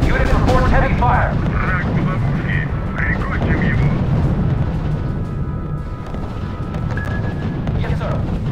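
Heavy gunfire and artillery fire in the real-time strategy game R.U.S.E., a dense, continuous rumbling barrage of distant booms under radio-style voice chatter.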